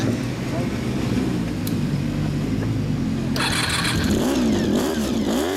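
A 1992 Honda VFR400R (NC30) motorcycle with a Yamamoto Racing exhaust idles loudly nearby, then revs up in a few rising and falling bursts, with people talking over it.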